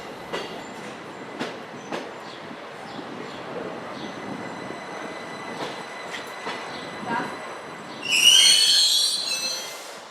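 A Swiss ABE 416 Allegra electric multiple-unit train rolls into Igis station with rhythmic clicking of wheels over rail joints, ending in a loud, high squeal of brakes as it slows.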